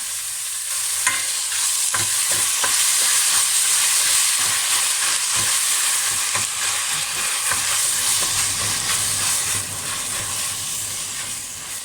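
Loud continuous sizzling and hissing of food stir-fried in a non-Teflon wok over high heat, with repeated scraping and clattering of a spatula, close up.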